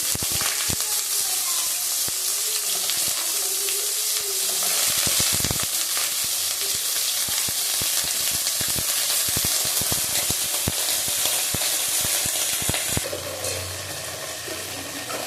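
Eggplant and a spoonful of black cumin seeds fry in hot oil, a loud continuous sizzle broken by frequent sharp crackles and stirring scrapes, easing slightly toward the end.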